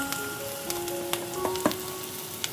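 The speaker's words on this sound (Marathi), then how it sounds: "आता हा मसाला आपल्याला छान फ्राय करून घ्यायचा आहे तेलामध्ये" Onion-coconut masala frying in oil in a pan for a chicken gravy, a continuous close sizzle and hiss with a few small pops and light stirring clicks, with no voices.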